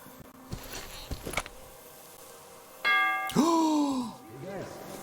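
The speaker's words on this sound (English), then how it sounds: "That's a bell" A bell chimes in the Metro Exodus game world, a clear ringing tone with fading overtones. It follows some scattered clanks and thuds and is heard twice in close succession near the middle.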